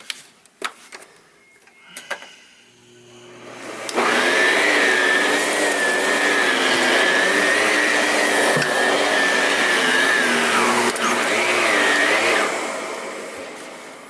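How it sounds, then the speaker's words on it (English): Miele C3 Marin canister vacuum cleaner working on carpet: a few clicks and handling knocks, then the motor swells into a loud, steady whining roar with a high pitched tone that wavers slightly over ten seconds. "this is probably the standard of what we consider acceptable in terms of cleaning on carpet with a vacuum cleaner"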